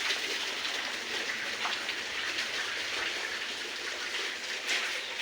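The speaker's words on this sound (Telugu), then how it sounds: "ఇంత పెద్ద వర్షం పడుతుంది" Steady, dense hiss of heavy rain pouring down without a break, loud and even throughout with a few brighter splashes, no voices.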